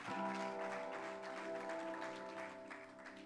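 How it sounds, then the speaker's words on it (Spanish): A church congregation applauds during a Spanish-language sermon, a steady, faint wash of clapping from many hands that slowly tapers off. "Dámele un fuerte aplauso al Señor"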